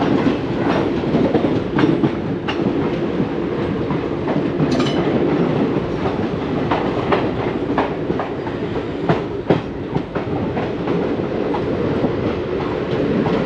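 A long-distance passenger train running from Coimbatore to Thiruvananthapuram rumbles steadily on the rails, heard from inside the coach, with a loud, continuous roar and rhythmic clickety-clack of wheels over rail joints.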